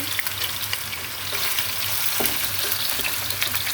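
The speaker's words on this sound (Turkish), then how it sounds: "Şimdi kızartma da böyle." Food sizzles and crackles in hot oil, a steady close frying hiss with scattered pops throughout.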